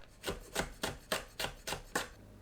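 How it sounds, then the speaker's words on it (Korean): A knife chops green onion and green and red chili peppers into rounds on a board, seven evenly spaced crisp cuts in a steady rhythm, close and alone. "파, 청양고추, 홍고추는 둥글게 썰어줍니다."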